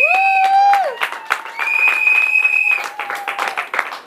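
Clapping from the audience at a public doctoral thesis defense in a university setting, with loud, high sustained vocal cries ringing over the scattered claps for the whole stretch.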